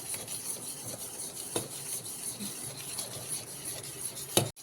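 Sugar and semolina for a rava cake being beaten in a bowl, a quiet continuous scraping and rubbing with faint clinks, and a sharper knock near the end.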